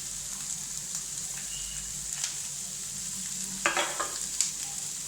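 Finely chopped onion and capsicum fry in hot oil in a pan, a soft steady sizzle running throughout, with a few brief stirring scrapes and clinks near the end.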